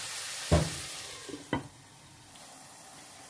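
Marinated chicken cooking in butter in a pan, a low frying hiss broken by two distinct scraping stirs and a light clatter, close and quiet with no talking.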